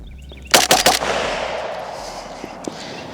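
A plastic-bodied AK rifle fires three quick, sharp outdoor shots in a tight burst, each crack ringing out loud and close before a long fading echo, followed by a couple of faint clicks.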